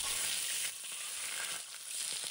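Squid sizzles in hot cooking oil in an iron wok, a bright, dense crackling hiss that carries steadily throughout, dipping slightly now and then as the pieces settle.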